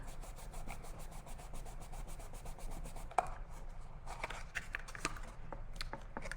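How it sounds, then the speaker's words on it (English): A taped paper box bottom being rubbed firmly by hand, heard as close, soft rhythmic rubbing strokes followed by a sharp tap and several scattered scuffs and taps. "Give it a good rub on the bottom."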